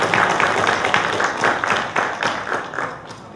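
A crowd at an outdoor charity fundraiser finale in Starachowice breaks into loud, dense applause, the clapping arriving in uneven rhythmic swells close by.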